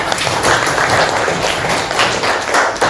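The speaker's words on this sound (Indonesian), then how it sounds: "tepuk tangan semua." Group applause in a classroom teaching session, a loud, dense wash of clapping from many hands that holds steady for a few seconds.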